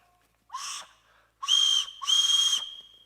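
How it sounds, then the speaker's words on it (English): A whistle is blown three times, a short toot and then two longer shrill blasts, loud and close against silence. "When you hear the whistle,"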